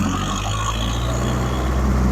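Timberwolf TW280 wood chipper engine running after start-up, a steady loud mechanical drone with low rumble holding constant throughout, close by and without talk.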